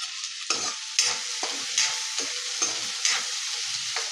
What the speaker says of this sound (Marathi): आता या गरम तेलात आपल्याला कांदा घालायचा आणि कांदा मस्त फ्राय करून घ्यायचा.